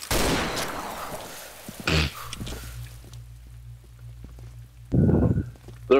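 Sniper gunfire from the video game Combat Arms, heard during a 7v7 clan war on the Grave Digger map. A loud, sharp burst opens the clip and another shot cracks about three seconds later, over a low, steady game hum.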